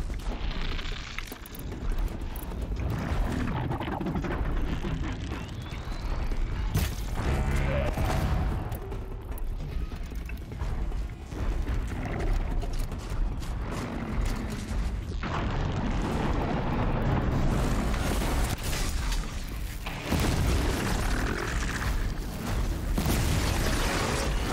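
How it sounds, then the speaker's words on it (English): Booming explosions and mechanical clanks fill a battle in the video game Horizon Zero Dawn, loud and dense throughout with brief surges, with little speech over the din. "Get out of the explosion range!"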